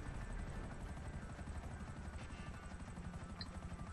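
Akula helicopter in GTA V, a dense, continuous rotor thrum and turbine roar holding steady at even loudness, with no voices.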